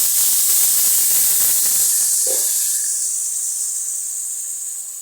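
Coconut mixture with fenugreek hits hot oil in a pan, giving a loud, bright hiss that starts at full strength and slowly fades as it settles.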